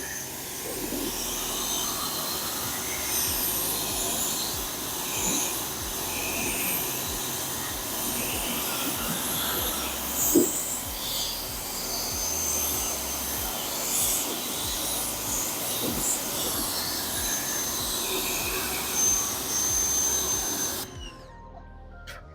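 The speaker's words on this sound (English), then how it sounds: "I'll get some footage of the rinse so we can see and make sure that it rinses off nice and easy" Car being rinsed with a sprayer after a foam contact wash, a continuous loud hissing spray of water close by that stops abruptly at the end.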